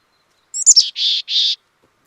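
A synthetic-sounding bird chirp: a quick high trill followed by two longer, buzzy tweets, crisp and isolated against silence.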